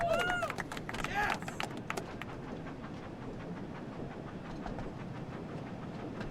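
A train runs in the Thomas & Friends: Wonders of Sodor video game as a steady mechanical rumble with rhythmic clatter. Whistle-like tones and speech come briefly at the start.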